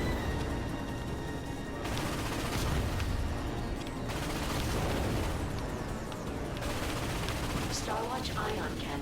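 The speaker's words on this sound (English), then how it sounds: "When the cannon charges, open fire." Cannon blasts and rapid weapon fire against warships in the PS4 game Ratchet & Clank (2016), loud and continuous bursts with booming impacts, and a voice speaking in places.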